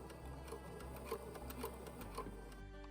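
A sewing machine runs steadily while stitching a cottage romper, its motor hum and rapid needle ticking continuous and close, with no talk over it.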